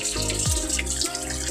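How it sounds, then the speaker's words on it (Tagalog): Water from a tap overflows in a bathroom, pouring and splashing continuously at close range with a steady, full rush. "Maapaw na yung tubig"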